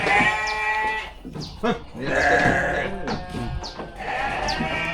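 Goats bleat repeatedly nearby during blood sampling, several wavering calls in a row, with brief human voices mixed in.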